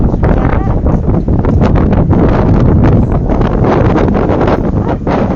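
Strong wind buffets the microphone in loud, rumbling gusts that continue throughout without a break, in Tamsui, Taiwan.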